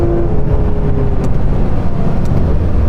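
A racing car engine in a driving video game, a loud, steady close roar with a brief gear change near the start, with no talking.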